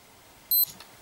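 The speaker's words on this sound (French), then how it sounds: "Un double bip indique que la montre est prête à être connectée." A CooKoo smartwatch gives a short, sharp electronic beep signalling it is ready to connect, clean and close against near silence, followed by a fainter second blip.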